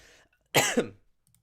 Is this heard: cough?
yes